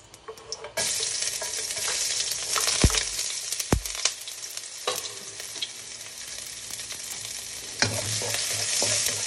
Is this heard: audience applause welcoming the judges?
no